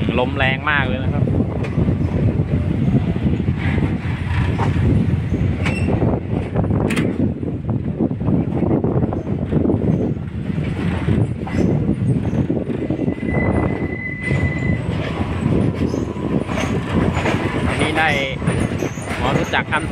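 Third-class train in Thailand rolling along its rails toward Nakhon Sawan, a steady loud rumble and rattle with strong wind roaring throughout, and voices talking over the noise at times.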